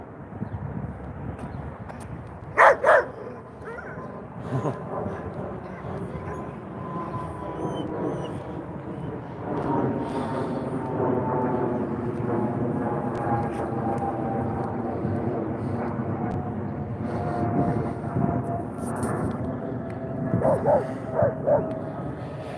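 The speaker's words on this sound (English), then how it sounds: "We got a dog not happy right there." A dog barks a few times at a park, short sharp bursts near the start and again toward the end, over a long steady rumble resembling a passing aircraft.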